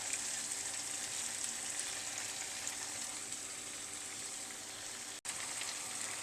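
Chicken Afghani in aromatic spices frying in a pan over a fairly high flame, giving a steady, dense sizzle that holds evenly and close, with one very brief dropout near the end.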